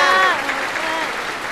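An audience at a stage show applauds at the end of a skit, a dense, steady wash of clapping that holds through the whole moment, with a voice briefly audible at the start.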